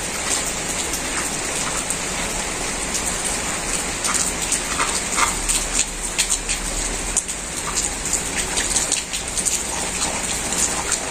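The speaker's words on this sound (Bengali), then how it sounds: "ঝিরি ঝিরি বৃষ্টি পড়ে" Light drizzle falls steadily in the open, a soft continuous patter of raindrops on surfaces, with no talking over it.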